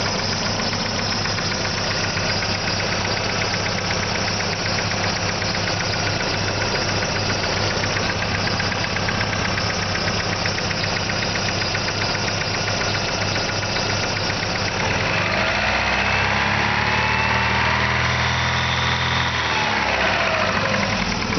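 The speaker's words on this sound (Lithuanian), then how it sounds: "Variklis dirba tvarkingai." A petrol Opel Tigra idles steadily up close, a continuous mid-pitched engine hum with a faint knocking texture that holds for about twenty seconds, shifting slightly in tone near the end, with no voices.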